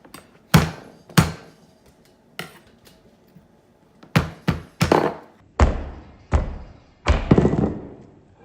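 Garlic is pounded and crushed at home for garlic bread, a string of about ten sharp, close thuds at irregular intervals, some landing in quick clusters, with quiet gaps between.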